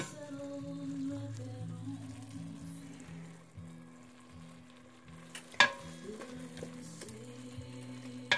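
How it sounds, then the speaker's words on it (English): A spoon stirs beef bourguignon in a pot with a low, steady sizzle and soft scraping, with a louder clink or scrape around the middle, fairly close and quiet, with no talking. "Stir that up a little bit."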